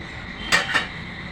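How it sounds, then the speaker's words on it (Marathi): A utensil scrapes and knocks twice against a pot while jowar and rice flour are stirred together. The two short clinks come close together over a faint steady background. "हेही सुद्धा छान मिक्स करत आहे"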